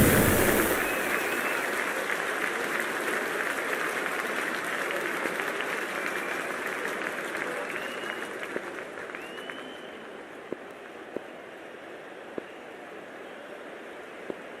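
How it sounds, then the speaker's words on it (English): A stadium crowd at an IPL cricket match between Sunrisers Hyderabad and Mumbai Indians in Cricket 24 roars and applauds as players come out, a dense, steady wash of cheering that slowly fades, with a few sharp knocks near the end. "the crowd is making plenty of noise for the opening game"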